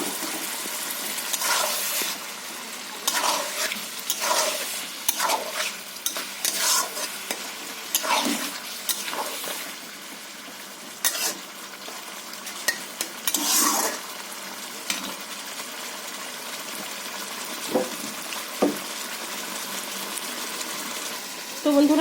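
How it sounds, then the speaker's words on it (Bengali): Fried eggplant being stirred into a hilsa fish curry in a pan, with a spoon scraping and pushing the pieces around and a soft sizzle underneath. The strokes are close and uneven, with no talk. "আমি ভেজে রাখা বেগুনটা তরকারির মধ্যে বন্ধুরা আমি দিয়ে দিচ্ছি"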